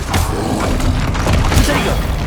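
In Hogwarts Legacy, casting the Incendio fire spell makes a short, loud burst of whooshing flame with booming thumps, heard up close and alone.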